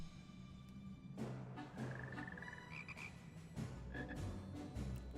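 Frogs croak in Final Fantasy XIV: Shadowbringers inside Matoya's Relict, a few bubbly rising calls over a low game ambience and soft background music, fairly close and moderate in level.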